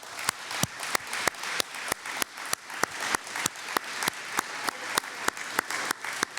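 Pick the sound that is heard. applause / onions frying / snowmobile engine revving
applause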